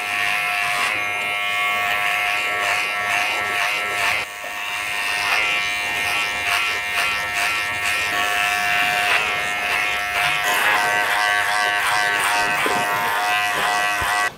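Electric hair clippers with a number two guard buzz loudly and steadily while cutting a textured crop top fade, a continuous close-up motor drone with brief dips as the clippers shift position.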